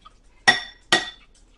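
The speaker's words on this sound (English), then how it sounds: "So I'm just stirring it to get some of the lumps out" Two brief clinks of a utensil against a container while a lumpy homemade natural deodorant mixture is stirred, spaced about half a second apart, close and otherwise quiet.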